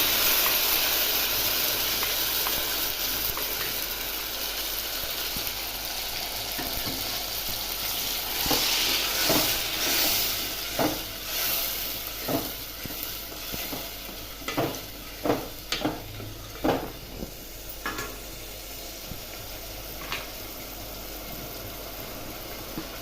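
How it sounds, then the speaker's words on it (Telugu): Ground tomato paste hits a hot pan where ginger has been frying. A loud continuous sizzle and hiss follows, then rhythmic stirring scrapes repeat near the end. There is no talking. "ఇందులో మిక్సీ పట్టుకున్న టమాటా పేస్ట్ వేస్తున్నాను"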